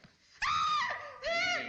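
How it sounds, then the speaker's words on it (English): A recycled stock scream of a woman from the vintage film Cat-Women of the Moon: two piercing, drawn-out shrieks separated by a brief pause, loud and close over quiet low rumble. "They don't have enough budget to, like, do another scream, so they decided to use the same one over again."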